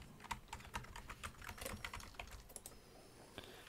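Typing on a computer keyboard, quick quiet clicking keystrokes in an uneven rhythm, close up and with no talk.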